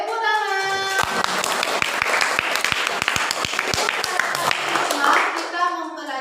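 A classroom of students claps in unison, a series of sharp, evenly spaced claps over a bed of scattered applause, with children's voices chattering before and after.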